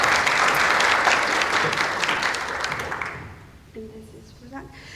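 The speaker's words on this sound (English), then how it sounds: "please join me in a great and loud round of applause for our speakers" Loud audience applause for speakers at a talk, dense clapping that fades out after about three seconds, followed by faint voices.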